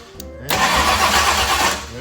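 A 1965 Ford Thunderbird's FE 390 V8 cranks over on the starter with the distributor unplugged, a loud, steady mechanical churning that starts abruptly after a short pause and runs without catching.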